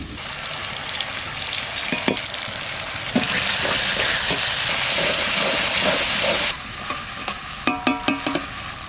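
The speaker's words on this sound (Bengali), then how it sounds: "তেজপাতা এলাচ দারচিনি লবঙ্গটা ফোড়নে দিচ্ছি" Bay leaf, cardamom, cinnamon and cloves hit hot oil for a Bengali tempering, giving a loud continuous sizzle and hiss with a sharp surge midway, punctuated by clinks and scrapes of a spoon stirring the pan.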